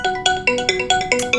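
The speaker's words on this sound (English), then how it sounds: "I have settings where I can change the ringtone just like I would on a desk phone or a smartphone" A phone ringtone from the Jive Web app settings plays loud and alone, a rapid repeating electronic melody of bright tonal pulses, about six quick notes in steady rhythm.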